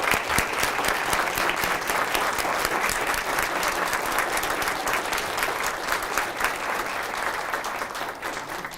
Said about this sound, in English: we're going to applaud for every poet that got up to the microphone today